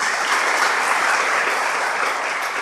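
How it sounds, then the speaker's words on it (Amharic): An audience at a national research conference applauds, a dense, even wash of clapping from many hands that holds steady and close throughout. "ባካችሁ አጨብጭቡልኝ።"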